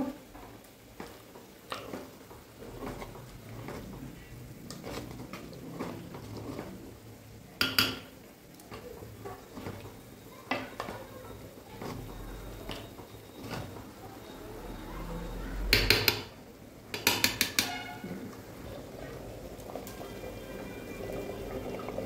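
Khichuri cooking with ghee in a pot is stirred and mixed, with a spoon scraping and clinking against the metal in irregular strokes and a few louder bursts of clattering, quiet overall over a faint bubbling background.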